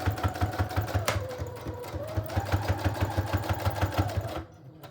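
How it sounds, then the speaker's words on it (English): Sewing machine stitching cardstock and lace onto the inside cover of a wallpaper junk journal, a close, steady rapid needle rhythm that runs for several seconds and then cuts off abruptly near the end. "And it's gonna sew the cardstock on the inside cover in place."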